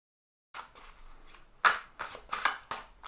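Tarot cards being shuffled by hand, heard as a run of soft papery riffles and sharper flicks that start after a brief silence and come in uneven bursts, close and fairly quiet.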